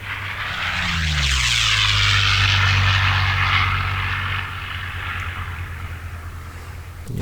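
A Curtiss P-40C fighter's piston engine drones loud and steady in an IL-2 flight simulator, a constant propeller roar with a slowly shifting pitch and no talking over it.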